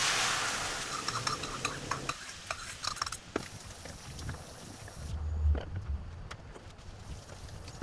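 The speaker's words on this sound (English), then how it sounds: "Add in the condiments and bring it to a boil while stirring." Condiments get stirred in a pot of Korean red pepper sauce for beancurd as it comes to a boil, with soft scraping and clinks of a utensil over a low simmering bubble, fairly faint.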